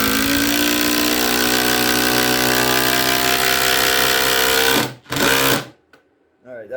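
Ryobi sub-compact impact driver driving a fastener through 12 gauge material, a loud, close, continuous buzzing hammer that runs for about five seconds, then cuts out abruptly with a short final burst.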